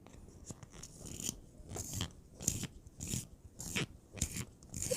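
A lip liner pencil is sharpened up close with repeated gritty, crunchy scraping strokes in an uneven rhythm of turns, fairly quiet and with no talking.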